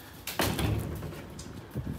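A greenhouse's double door swings open or closed with a knock and rattling scrape, followed by a fainter second bump, heard fairly close in a quiet setting.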